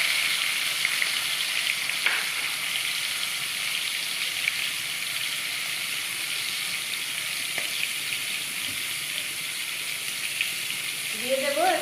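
Bottle gourd peel with small crab legs frying in a pan, a continuous dense hiss of hot oil held at an even level, close, with a few faint knocks and a brief sharper clatter near the end.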